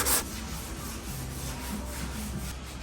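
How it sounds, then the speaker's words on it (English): An 80 grit contour sanding block scrubs across urethane primer on a car body panel, a steady close-up raspy rubbing that carries on evenly without pause or voices. "I'm going to use an 80 grit block, a nice contour shaped round block here, to file that down to the gap"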